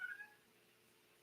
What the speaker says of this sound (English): there is a cat in here someplace